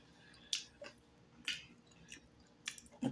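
Crunchy deep-fried turtle with crisp, skin-like coating is chewed close up, giving sharp crackling bites at irregular intervals with quiet mouth sounds between and no talk.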